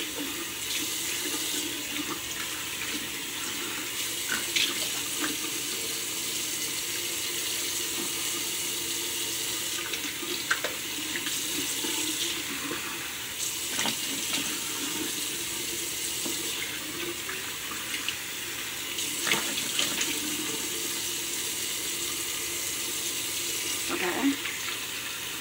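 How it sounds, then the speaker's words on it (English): Steady hiss of tap water running into a sink during face washing, continuous for the whole stretch with small splashes and clatters as hands move under the stream, and a voice speaking faintly in the background. "you wash your face and you make sure it's thoroughly washed off"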